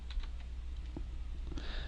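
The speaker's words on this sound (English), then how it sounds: "if I can type correctly" Quick typing on a computer keyboard while a chat message is entered during a game lecture, a handful of soft, close key clicks in a short irregular burst over a steady low hum.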